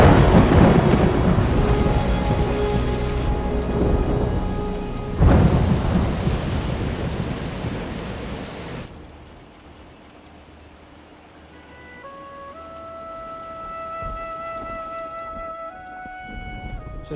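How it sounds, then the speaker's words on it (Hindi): A film-scene thunderstorm: loud, steady heavy rain with thunder rumbles for about nine seconds, then the downpour fades and soft sustained music tones take over. "How can we launch in thunder and lightning?"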